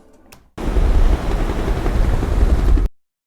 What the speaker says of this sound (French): Le son de notre hélicoptère qui est donc plus à gauche nous immerge beaucoup plus dans l'action.